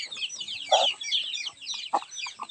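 Chickens clucking close by, a busy overlapping stream of short clucks and squawks with brief louder calls standing out.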